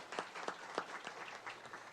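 Scattered, fairly quiet applause from an audience at a board of education meeting, individual claps distinct and uneven across a brief stretch.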